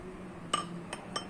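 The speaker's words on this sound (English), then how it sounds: "put these 2 pencils in these 2 empty glasses one by one" Pencils are placed one at a time into empty drinking glasses, giving three small, light glass clinks over quiet room tone.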